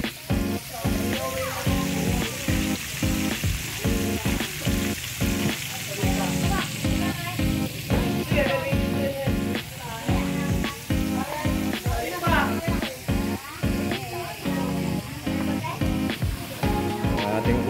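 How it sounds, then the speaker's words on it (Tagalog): Jollibee-style fried chicken fries in hot oil for a birthday feast, giving a loud, continuous crackling sizzle with rhythmic pulsing bursts throughout. "Ating fried chicken"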